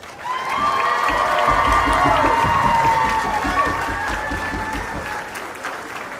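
A wedding reception crowd gives the couple a standing round of applause, with cheers and whoops rising over the continuous clapping that swells early and holds strong before easing slightly near the end.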